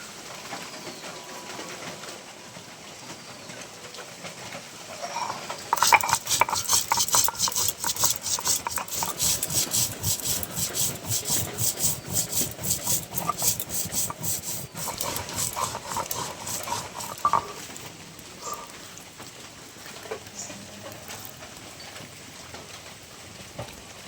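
Whole cumin and coriander seeds being ground on a shil-pata grinding stone: quiet at first, then a quick run of loud, rhythmic, gritty strokes for about ten seconds that eases into softer, scattered scraping.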